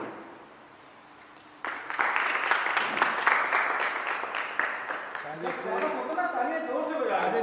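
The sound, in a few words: audience applause welcoming the chief guest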